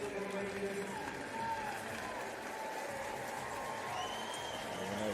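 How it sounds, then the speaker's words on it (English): Arena crowd cheering and applauding at a speed skating European Championships race in Heerenveen, a steady broad roar with clapping, a commentator's voice faintly underneath. "Nice rise from the crowd"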